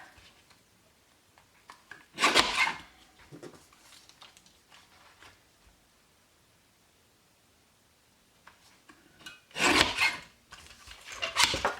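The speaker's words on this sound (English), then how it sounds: "now I'm just going to use my trimmer here just to cut that strip" A paper trimmer slices a strip of card in two short, rasping passes several seconds apart, each a brief, close scrape against a quiet background.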